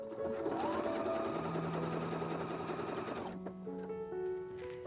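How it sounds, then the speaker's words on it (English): A sewing machine runs steadily with a rapid mechanical hum, sewing a zigzag stitch to apply elastic on a swimsuit, then slows and changes pitch near the end; close and clear, no talking. "The elastic application I did with my regular sewing machine, just using a zigzag."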